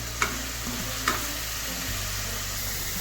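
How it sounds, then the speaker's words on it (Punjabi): Onion paste sizzles steadily as it is stirred and roasted in a pan, a continuous soft hiss broken by two light spoon clicks against the pan. "ਪੇਸਟ ਨੂੰ ਭੁੰਨ ਲਿਆ ਸੀ ਅਸੀਂ"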